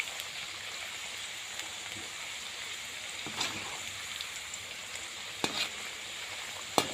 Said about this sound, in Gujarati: થોડા થોડા હલાવતા રહેશું આપણે કેળા, જેથી કરીને ચીપકી ના જાય.